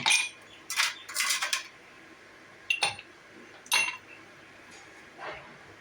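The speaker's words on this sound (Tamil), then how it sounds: "இப்போ நம்ம ஐஸ் க்யூப் 2 போட்டுக்கலாம்" Ice cubes drop into a glass for jamun fruit sherbet, a few bright clinks and knocks spaced out over several seconds, close and clear with no talk.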